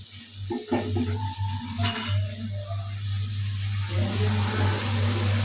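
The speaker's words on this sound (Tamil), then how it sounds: "நல்லா வதங்கட்டும் ஃப்ரெண்ட்ஸ்" Chicken fry with tomatoes sautés in a pan, giving a soft sizzle over a steady low hum, with a few clicks of stirring near the start.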